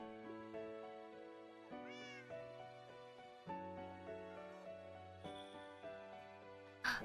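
A cat being coaxed toward a piece of fish gives a series of clear meows close by, several short calls spaced through the moment, with no voices heard.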